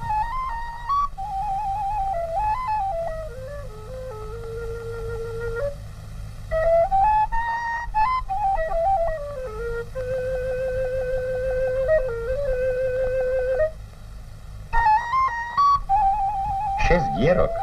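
A six-hole Wallachian folk whistle, the valašská píšťalka, plays a lively ornamented melody with quick trills and sustained held notes, bright and close, over a low background hum, with no talking.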